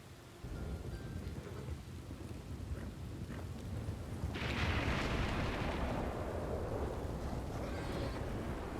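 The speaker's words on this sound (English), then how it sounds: "the thunder's always so goddamn loud" A storm in Red Dead Redemption 2 RedM, with a low rumble of thunder swelling midway over steady rainfall, fairly quiet and without voices.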